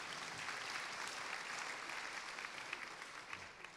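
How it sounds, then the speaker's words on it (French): Audience clapping at a book-festival interview, steady dense applause from a crowd, moderately distant and fairly soft, without speech. "vous pouvez applaudir aussi"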